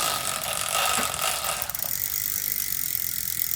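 A bicycle crank is turned during maintenance, and the freewheel ratchet clicks in a fast, steady, close buzzing whir that slows slightly toward the end.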